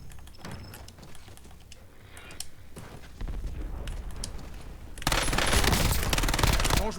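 Rapid gunfire from a secret weapon in the video game Call of Duty Warzone, with scattered bursts and clicks at first, then a sustained loud rattling volley building to a dense, close roar of shots.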